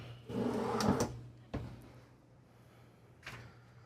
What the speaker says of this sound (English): Full extension drawer glides.